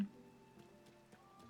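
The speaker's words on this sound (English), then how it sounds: "I do like the rain in this game." Video game rain patters softly and steadily in a quiet, faint backdrop of scattered light drops under a thin tonal hum.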